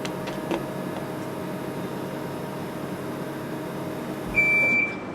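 A single electronic machine beep sounds after a button is held in, a short clear tone near the end that rises above a steady mechanical hum.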